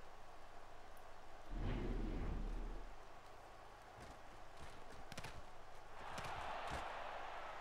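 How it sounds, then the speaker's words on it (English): Rain and thunder in NCAA Football 2003, with a steady wash of rain, a heavy low thunder rumble early on, and scattered crackles later. "I don't care that it's raining"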